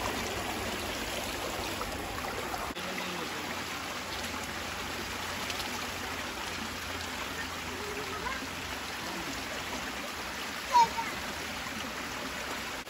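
A river stream flows steadily at close range, a continuous broadband rush of water that stays even throughout with no clear breaks.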